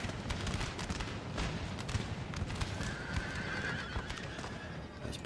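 Cavalry horses on a Napoleon: Total War battlefield, a busy patter of galloping hooves with a drawn-out neigh rising in the middle, set against a distant battle din.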